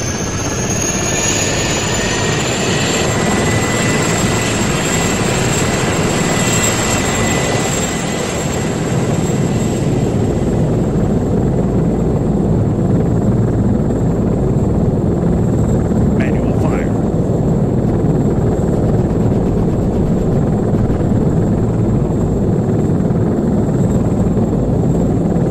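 Helicopter rotor and engine noise from the military video game ARMA III with South African defence mods, a steady loud drone with a high whine that fades partway through, continuing throughout.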